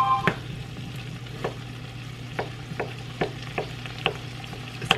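Leftover rice and kielbasa heat in a pan with a steady low sizzle, broken by sharp scraping clicks at irregular intervals as a utensil stirs against the pan, close and without talk.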